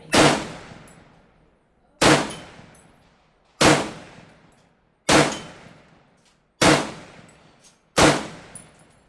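Six loud M1 Garand rifle shots ring out at roughly even intervals, each a sharp crack with a decaying tail, and a bright metallic clip-ejection ping follows the final round.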